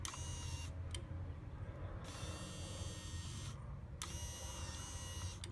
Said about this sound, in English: Alright, so the switch is controlling the motor